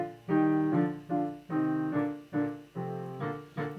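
An orchestra plays the brook-scene second movement of Beethoven's Pastoral Symphony, with sustained, gently swelling string chords in a rocking rhythm, phrases rising and easing back every half second or so, soft and unaccompanied by talk.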